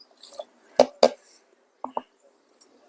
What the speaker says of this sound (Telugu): వేసేసి మూత పెడదాం